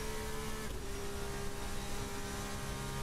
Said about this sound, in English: Lovely sound on this Formula 2 car.